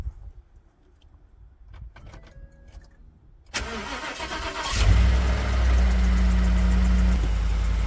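After quiet with faint birdsong, a starter cranks briefly and a high-mileage pickup truck engine fires up, settling into a steady, loud idle.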